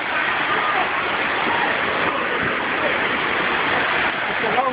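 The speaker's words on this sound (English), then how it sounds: "Oh yeah, you can totally jump in this waterfall." A waterfall in El Yunque National Forest, Puerto Rico, roars steadily and loudly at close range, its dense broadband rush unbroken for the whole stretch.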